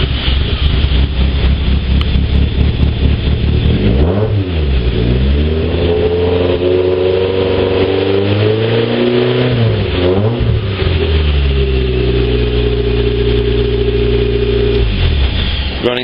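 A car engine running steadily after a restart with its coil lead reconnected, loud and close, revving up and down in smooth sweeps and settling back to a steady drone.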